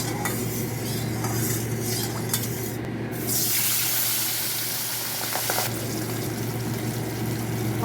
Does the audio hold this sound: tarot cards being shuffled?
no